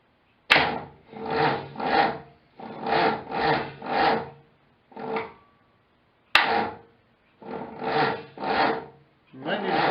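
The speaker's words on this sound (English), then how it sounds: "I just want to see how the starter sounds." Starter motor on a 1972 Triumph TR6 with no distributor fitted, cranking in neutral in a small shop: two rhythmic bursts of repeated churning strokes, each short group separated by brief pauses, close and fairly loud.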